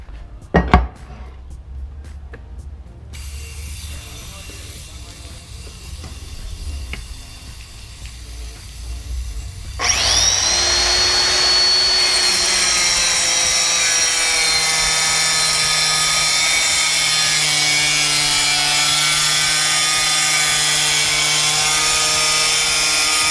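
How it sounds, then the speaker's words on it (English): A Beast tile saw cuts 1/2 inch thick porcelain tile: after a quieter stretch with a few clicks and knocks, the motor starts into a loud, steady, high whine that runs unbroken to the end. "last, we'll cut some hard, 1/2 inch thick porcelain tile"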